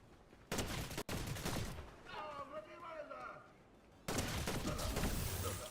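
Gunfire in Fortnite, dense bursts of rapid shots in two loud stretches separated by a quieter gap, with talking underneath.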